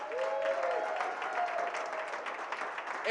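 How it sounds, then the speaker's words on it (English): School assembly audience applauding students being honoured by a board of education, dense sustained clapping from a crowd with a faint voice or tone briefly threading through. "Let's give these Griffins another round of applause"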